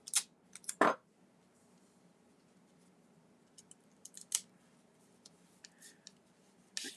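Scissors snipping through ribbon up close: a few sharp cuts with one firm closing snip early on, then quieter sporadic clicks and light handling noises in a quiet room.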